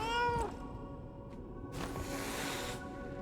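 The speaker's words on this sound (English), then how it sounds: "what is this cat doing over here?" Cat in Lies of P: a close meow, then a longer drawn-out caterwauling cry, distinct over quiet background with no speech.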